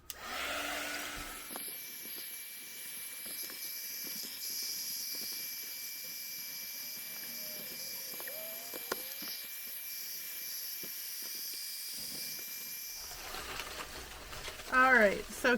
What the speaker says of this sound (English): No one wants to listen to me run a heat gun for, you know, 10 minutes straight.